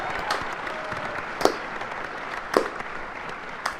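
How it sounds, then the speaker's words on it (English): An audience at a live gaming convention panel gives a slow clap, with sparse, spaced claps over steady crowd murmur in a large hall. "Slow clap."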